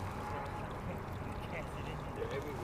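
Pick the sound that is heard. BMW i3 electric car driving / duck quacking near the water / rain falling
duck quacking near the water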